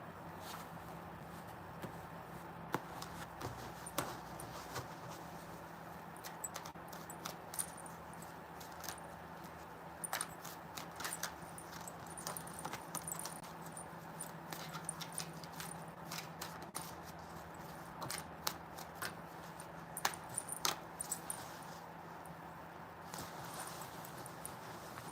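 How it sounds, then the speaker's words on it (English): A deck of tarot cards being shuffled by hand, soft, faint riffling and tapping rustles repeating over a steady low background hum, with no voices. "shuffle 3 more times and then get some out."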